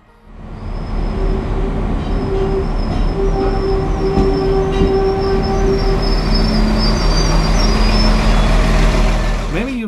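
A PESA 214M (SA135) diesel railcar pulls into Gryfów station on the Izera Mountains Railway, its engine drone steady and loud throughout, with whining tones and faint wheel squeal as it rolls in close.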